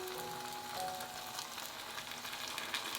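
Sauce poured into a pan of braising egg and tofu sets off a soft, steady sizzle and gentle frying crackle, quiet and continuous throughout.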